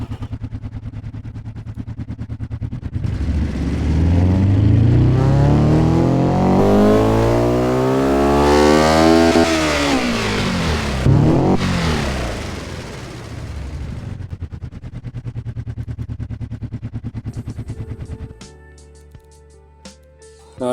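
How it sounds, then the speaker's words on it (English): Subaru-based flat-four making about 1700 horsepower, revved in one long loud sweep that climbs steadily to a peak and drops away, followed by a sustained high hold before cutting back to a low idle. "I do still hear some Subaru engine in this thing"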